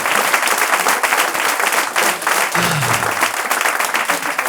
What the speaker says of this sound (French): des petites blagues woke, vous applaudissez